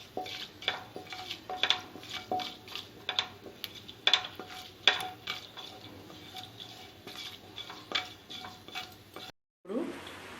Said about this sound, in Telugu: తాలింపు గింజలు వేసుకున్నాం